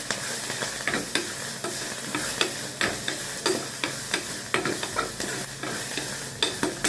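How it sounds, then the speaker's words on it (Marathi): Onion fries in a pan for a paneer curry, a continuous sizzle broken by regular clacking stirs and scrapes of a spatula, close and moderately loud. "इथे मी कांदा भाजलेला आहे पनीरच्या भाजीसाठी"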